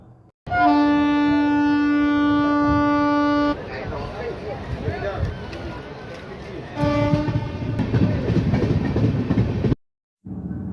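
The Tamralipta Express runs on its rails to Digha in rain, a loud rumbling carriage roar with a long steady horn-like tone at the start and again midway, briefly cutting out near the end.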